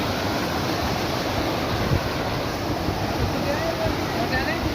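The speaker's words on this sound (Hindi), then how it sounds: "ऊपर पहाड़ के जो है वो निकल के पानी नीचे बह रहा है।" Cold meltwater from high in the mountains pours down a stream near Balakot, making a steady, loud, close rushing roar with constant broadband noise throughout.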